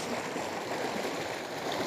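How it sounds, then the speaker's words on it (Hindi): Clear spring water gushes fast out of a mountainside at a natural stream in Balochistan, a steady close rushing and gurgling wash that fills the whole stretch without pause. "बड़ी तेज़ी से ये पानी आ रहा है और उस पहाड़ से निकल रहा है ये पानी"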